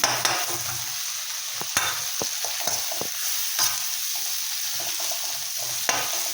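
Tomatoes frying in oil with masala for a fresh prawn curry, a steady close sizzle broken by several sharp clicks and scrapes of a spoon stirring the pan.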